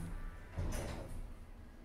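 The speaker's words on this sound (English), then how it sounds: "Doors closing." Lift doors in a shopping centre slide shut with a single brief, soft whoosh and thud against a faint hum of the lift car.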